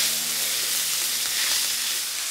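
Minced meat fries in bacon fat in a pan, giving a loud, steady, dense sizzle with no pauses and no talk.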